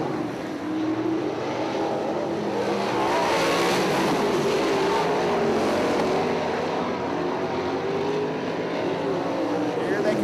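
Nonwing 410 sprint cars race at Lawrenceburg Speedway, a dense, continuous engine roar from the pack exiting a turn and staying loud and steady throughout, with a commentator's voice partly underneath.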